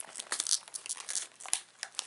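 Scissors cutting along the dotted lines of a Popin' Cookin' food kit's plastic packaging, close crinkly snips and rustles in quick irregular bursts.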